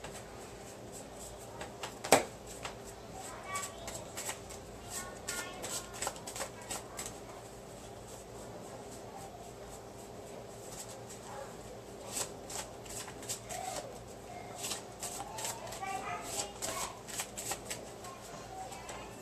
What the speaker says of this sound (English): Shuffle the Ruins deck.